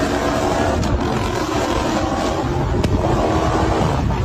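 A Chrysler 300 SRT with a tuned V8 gives a steady, loud engine roar mixed with rushing wind noise, continuous throughout with no voices.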